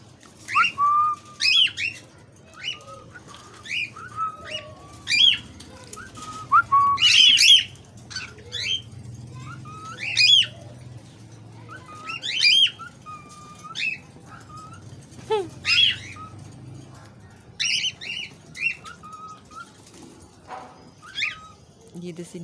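Caged parrots call and whistle repeatedly in a bird room, bright looping whistles and squawks trading back and forth at close range, with a low steady hum of room noise underneath.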